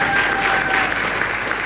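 Church congregation breaking into applause during a service, a steady wash of clapping from a room of worshippers at moderate level with no speech over it.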